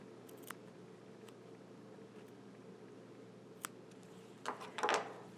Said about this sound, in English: I'm going to take my embroidery scissors again and carefully come up one side and then go up the other.